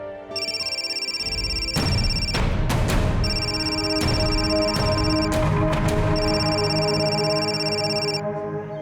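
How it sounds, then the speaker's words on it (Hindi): A phone rings continuously with a steady electronic tone, fairly loud, while background thumps and clicks come and go under it. "आपका फोन आ रहा है।"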